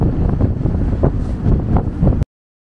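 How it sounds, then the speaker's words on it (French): Strong wind on a ferry deck crossing from Dieppe to Newhaven buffets the microphone in loud, low rumbling gusts, then cuts off abruptly. "Le vent souffle beaucoup"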